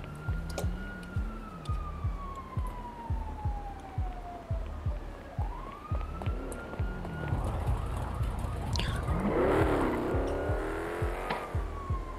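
A police siren in a roleplay video game wails nearby, sweeping down and then rising into a rapid yelp, over the steady hum and rhythmic thump of an engine in a car.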